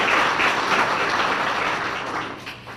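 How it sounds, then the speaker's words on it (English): A crowd at a chamber of commerce dinner claps in dense, steady applause that fills the room, loud at first and easing slightly toward the end, with no voices over it. "So let's give them a round of applause."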